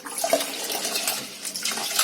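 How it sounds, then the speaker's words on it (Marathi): Soaked rice is swished by hand in water and the top water poured off, a continuous close splashing and gurgling of liquid. "असे हलवायचे तांदूळ हाताने आणि त्याचं वरचं पाणी काढून टाकायचं"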